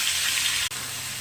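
Lote fish gill paste with salt, turmeric and a little sugar sizzles in a pan as a splash of water is added, a soft, even hiss with one brief break.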